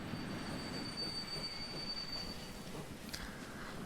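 A small train runs steadily along its rails in a 1870s–2000s transport management game, with continuous rolling rumble, a faint high squeal of wheels, and a brief brighter burst near the end.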